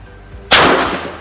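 A single loud, close shot from a Taurus TS9 pistol at a shooting range, sharp crack followed by a short ringing decay.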